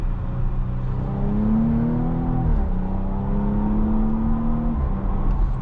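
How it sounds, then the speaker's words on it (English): Steady exhaust note from a 2022 Porsche Cayenne S Coupe, a low continuous growl with a rising and falling engine pitch and a brief dip mid-way, as from a driver's seat. "That exhaust is very nice and subtle, but yet it has a nice growl to it, and pops and burbles on downshifts."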